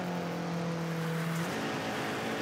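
A race car engine in the rally video game Gravel holds a steady high rev, then the pitch drops as a gear shift comes down, loud and continuous with no voices.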